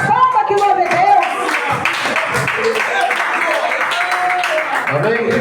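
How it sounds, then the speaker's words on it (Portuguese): A church congregation claps during a Lord's Supper service, a busy, continuous patter of many hands mixed with voices and singing that stay prominent throughout. "as palmas que louvem Deus"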